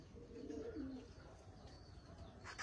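A pigeon gives soft, low cooing notes close by in the first second, followed by quieter ambient noise.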